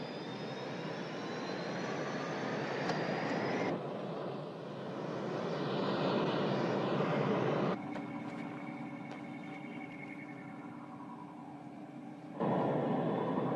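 A spacecraft lifts off with a sustained roaring engine rush, shifting in tone and intensity across several abrupt stages with a whining high hum layered over the steady rumble.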